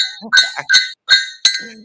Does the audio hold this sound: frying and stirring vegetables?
no